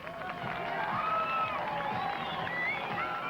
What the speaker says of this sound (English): Give us some applause.